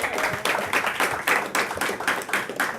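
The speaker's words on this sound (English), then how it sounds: "Give a round of applause." A comedy club audience claps in short, uneven bursts that swell and fade, a brisk patter of hands at moderate loudness, the applause of a small crowd.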